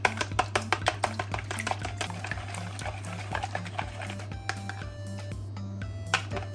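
Eggs being beaten for a Japanese breakfast omelette, a whisk or chopsticks rapping quickly and steadily against the bowl in a close, even rhythm of sharp clicks over a low background hum.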